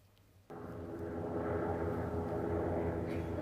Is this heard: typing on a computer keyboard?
no